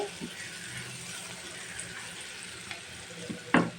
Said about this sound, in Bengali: এখন আমি এটাকে ভালো করে কষিয়ে নিচ্ছি।